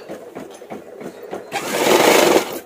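A sewing machine runs close by, stitching a boat neck blouse: a few short start-stop bursts, then one longer, louder continuous run of stitching.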